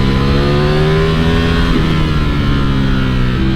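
Ducati Streetfighter V4 S motorcycle engine revving hard in second gear, a loud, continuous harmonic roar that climbs and dips with throttle while riding, heard close up.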